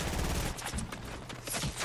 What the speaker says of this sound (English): They've been shooting at each other quite a while right now.